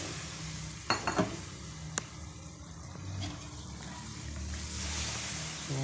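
String beans drop into a hot pan for a home-cooked Filipino dish, setting off a sharp clatter and a steady close sizzle that keeps going under light stirring noises, with no talking.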